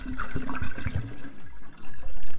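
Water pours in a steady splashing stream into a Thermomix bowl for garlic soup, 750 grams of it, gurgling and swirling up close before a brief lull and a final gush.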